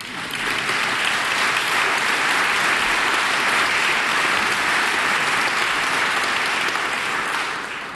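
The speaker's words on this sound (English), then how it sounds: "Please applaud." A conference audience at a research event breaks into sustained applause, a dense, even wash of many clapping hands that holds loud and steady for several seconds before easing slightly at the end.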